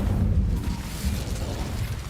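The Incendio fire spell in Hogwarts Legacy makes a dense, roaring, crackling burst of flame that stays loud and steady for about two seconds, with no voice.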